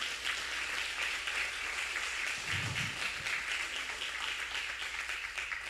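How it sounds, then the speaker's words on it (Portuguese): A church congregation claps during a sermon, a steady, faint wash of applause that holds evenly without speech. "Quem aplaude a Ele aqui dentro?"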